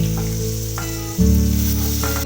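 Pointed gourd and potato pieces hit hot oil in a pan and burst into a loud, bright sizzle midway through, after a quieter steady hiss, continuing close and unbroken.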